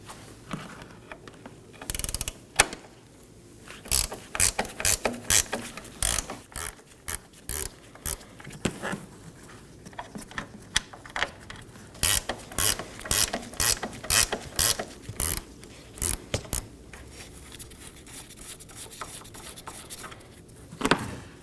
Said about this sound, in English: Now we're going to remove our top three strut mount bolts using a 13mm wrench.